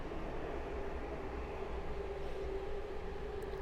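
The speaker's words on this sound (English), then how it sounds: "I might have to edit these trains out" A long train rumbles steadily past on a busy morning line, a dense, continuous roar of wheels and rail noise holding at a constant level throughout, with no voices.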